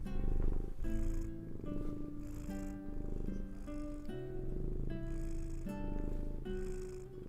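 Close-up purring from a house cat held near the mic, a continuous rumbling drone pulsing with its breathing in long even cycles, fairly loud and alone without speech.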